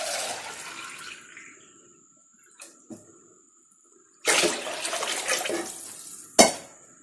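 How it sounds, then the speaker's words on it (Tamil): Water poured into a pot for egg biryani rice, a running splash at the start, a few small clinks, then a heavier pour that rushes for a couple of seconds before a final metallic knock. "இனி சாப்பாட்டுக்கு தண்ணி ஊற்றிடலாம்."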